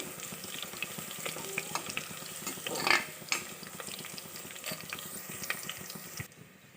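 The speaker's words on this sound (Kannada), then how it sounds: "ಇದು ಮೆಂತ್ಯ ಸೊಪ್ಪು ಪುದೀನ ಇದೆಲ್ಲ ಚೆನ್ನಾಗಿ ಫ್ರೈ ಆಯಿತು" Fenugreek leaves and mint fry in a pan with steady, close crackling and sizzling, broken by a few louder bursts as the greens are stirred; no one talks.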